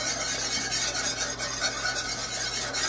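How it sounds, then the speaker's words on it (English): Whisk beating flour into a pot of beef stew, a continuous fast scraping and swishing of liquid, close and steady with no pauses. "I'll mix that up with a whisk."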